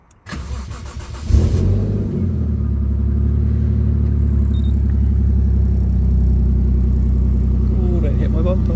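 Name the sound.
Toyota 1JZ engine starting and idling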